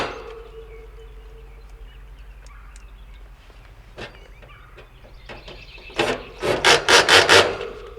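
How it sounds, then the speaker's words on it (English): The cover goes back onto a Trane XR15 central air conditioning unit: a quiet stretch with a single knock, then a series of loud, close rasping scrapes and rubs in the final seconds. "Now we can take and put our cover on."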